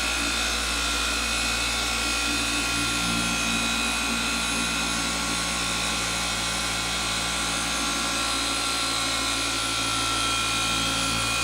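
A polishing machine running on speed 5 or 6 over car paint during a paint correction detail, a continuous loud motor drone with a low steady hum throughout, no talking.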